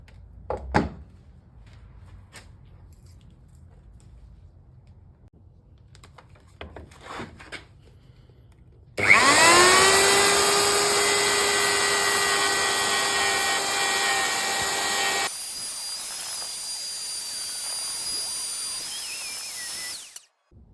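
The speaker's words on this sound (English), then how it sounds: "What I'm going to do now is go back over that and router it out again" A power router cuts into a stringy bark wood shelf: after scattered quiet handling knocks, the motor spins up with a loud high whine and rasping cut for several seconds, then shifts to a lighter, steady high-pitched spin.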